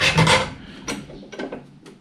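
A file rasps over metal to take burrs off a part for a cheap shrinker stretcher, several close scraping strokes, the first long and loud, then shorter fainter passes, with no voices.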